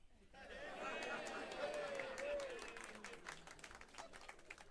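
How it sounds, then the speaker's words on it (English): A comedy club crowd applauds a stand-up's joke, a scattered clapping swell under lively chatter and some whooping, rising and then thinning out into separate claps. "I hate that you clap that"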